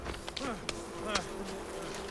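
A bee swarm attacking in the video game Far Cry Primal gives a steady insect buzz with rising and falling whines, moderately loud and close, without talk over it.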